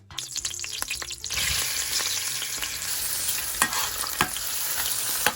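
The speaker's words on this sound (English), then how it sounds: "So I'm just frying up the onion." Onion sizzles steadily and loudly in a hot pan after a few clinks at the start, with occasional stirring scrapes.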